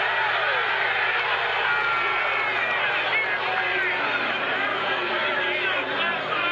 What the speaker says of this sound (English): You can hear the crowd a little bit more appreciative of Brian Miller's call.